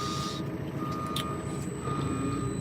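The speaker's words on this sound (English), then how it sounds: "I apologise for the beeping." Warning beeps from a farm vehicle's cab, a regular series of sharp, evenly spaced tones over a constant low engine rumble.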